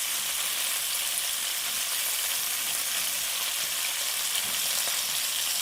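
Shrimp sizzling steadily in a hot pan for a peppers stir-fry, a dense, even crackle with no pause; the flip itself is not distinct.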